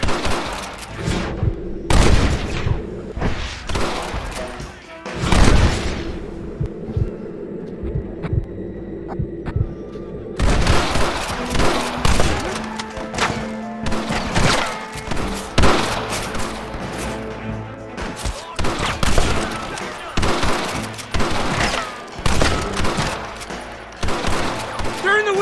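A Red Dead Redemption shootout: repeated loud gunshots crack close by in irregular bursts over a low droning hum, with some shouted voices in the mix throughout.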